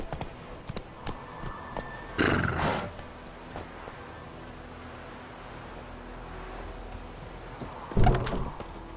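Horse hooves clip-clop at a trot across a game world in The Witcher 3: Wild Hunt, with two louder bursts of movement and snorting standing out against a quiet ambient background.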